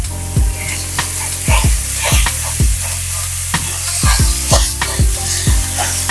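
Maple Italian sausage sizzling over medium-high heat in a non-stick skillet, a steady close fry broken by repeated sharp spatula knocks and scrapes as the meat is broken up.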